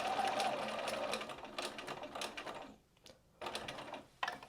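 A sewing machine stitches a fabric headband, running in a steady fast mechanical whir that briefly stops and restarts, close and moderately quiet.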